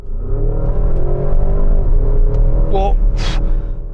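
A Porsche Cayenne Turbo GT accelerates hard, its engine a loud, sustained drone that climbs steadily in pitch, with a brief rush of wind or a gear change near the end.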